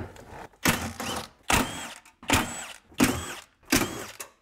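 A pneumatic impact gun rattles loose 12 mm bolts on a 2004-2009 Toyota Prius hybrid battery pack, firing six short, loud bursts in a steady rhythm with brief quiet gaps between them and no talking.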